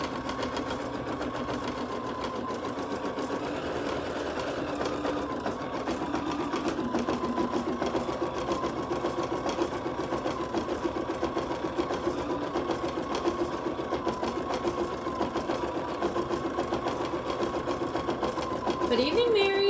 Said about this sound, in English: Does a nice little sketch stitch and then does a satin around the edge of it.